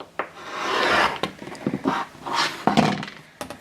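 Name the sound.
trimming quilt fabric along a ruler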